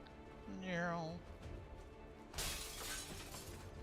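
Glass shatters with a sharp, bright crash in the turn-based strategy game XCOM 2 Long War of the Chosen, following a brief voice, with faint game ambience throughout.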